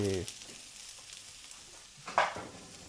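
Chopped onion sizzles on a masala dosa frying in a pan, a soft steady crackle heard close but fairly faint, with a short burst of clatter near the end.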